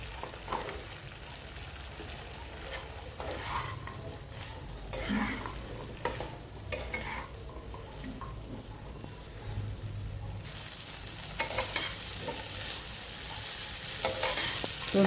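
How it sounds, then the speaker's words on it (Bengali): Cumin, coriander, red chilli, turmeric and salt frying in oil in a pan, a soft steady sizzle broken by intermittent scrapes and knocks of a spatula stirring, fairly quiet with no talking. "মশলাগুলো একসঙ্গে তেলের পরে দিয়ে ভালো করে এটাকে কষে নিচ্ছি।"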